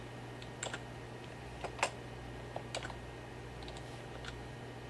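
Typing on a computer keyboard in a quiet room: a few sparse, light key clicks close by over a steady low hum, with no voices.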